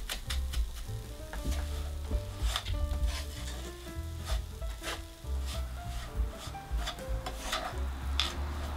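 Salt and sugar are stirred together in a bowl for a sundubu jjigae, giving a steady gritty rubbing and scraping of granules with light tapping strokes, close by, over background music.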